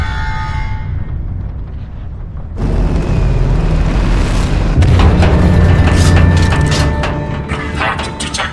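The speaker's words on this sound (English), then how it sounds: "Impact detected on center rocket booster." A rocket booster in the game Tales from the Borderlands takes an impact and erupts in a loud, deep explosive boom that starts suddenly near the three-second mark and rumbles on with crackling, mechanical debris and ringing tones to the end.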